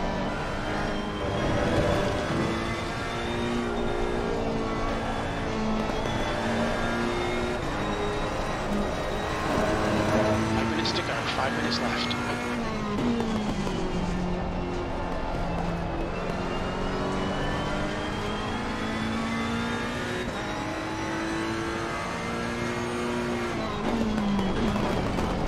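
Race cars roar around a track in the racing game Assetto Corsa Competizione, with a Porsche among them: steady high engine drone with rising and falling pitch as gears shift, continuous and loud, with a brief tire squeal near the middle.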